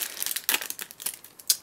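Foil wrappers of Yu-Gi-Oh! promo card packs crinkle and tear in a quick series of sharp, close rustles and crunches, one louder rip near the end, with no talking.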